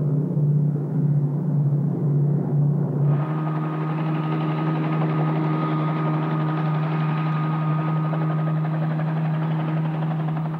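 Helicopter flying over the sea, a steady close rotor and engine drone with a deep throb that swells as a brighter whine joins after a few seconds, holding level throughout with no voices.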